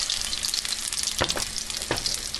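Steady sizzling of potato patties frying in a hot pan, with a few soft thumps as pieces are dropped in or moved.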